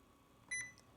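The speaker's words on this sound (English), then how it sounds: "It beeps pretty good." An IBM ThinkPad 380ED laptop gives a single short, quiet electronic beep that sounds alone against a low background hum.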